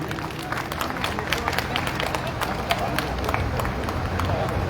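A crowd at a Ram Lila stage event applauds to welcome arriving guests, with steady, dense clapping running throughout at a fairly loud, close level.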